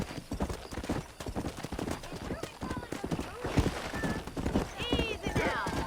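Horse hooves clip-clopping at a riding pace in the video game Red Dead Redemption, a brisk rhythmic patter under character voices, with a short whinny near the end.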